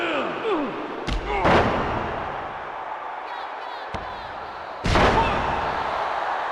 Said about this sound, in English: And what a blow from Goldberg.